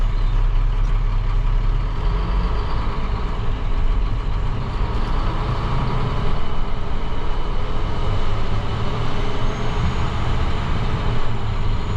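A newly bought snow plow truck's engine runs steadily near at hand, a continuous low rumble with a constant drone and no talk over it.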